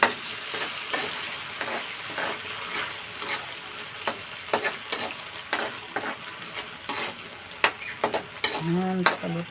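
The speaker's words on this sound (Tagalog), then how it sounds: "Ayan, palutuin ko muna ang sardinas." Sardines with garlic, onion and tomato cooking in a pan, a steady sizzle broken by frequent sharp scrapes and clacks of stirring, close by.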